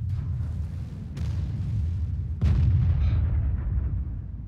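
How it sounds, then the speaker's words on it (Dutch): Artillery fire in the tank battle game World of Tanks: two heavy booming shots over a constant low engine rumble, the second louder and closer, with no speech. "En dat is weer artillerie."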